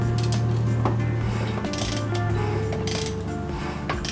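A 24mm socket wrench turns over a boosted 5.0L engine by hand, producing close ratcheting clicks and mechanical clunks over a steady low hum, irregular in rhythm, with no talking.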